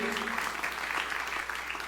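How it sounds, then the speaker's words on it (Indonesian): A church congregation gives a short burst of applause after a sermon blessing, a steady, moderately faint patter of many hands that tapers slightly at the end. "Tepuk tangannya paling meriah."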